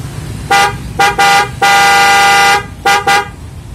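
A car horn honks in a broken pattern: three short toots, one long sustained blast, then two more quick toots, loud and close.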